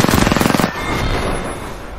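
Rapid automatic gunfire rattles loudly for under a second during a video game firefight, then gives way to a lingering noisy wash with no voices.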